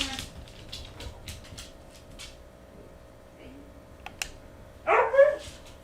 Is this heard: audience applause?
no